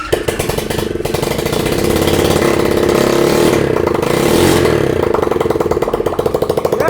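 A shifter go-kart engine built from pallets catches and revs hard, a raw, buzzy two-stroke-like whine held at high pitch for several seconds with rises and dips, loud and close, no talk over it.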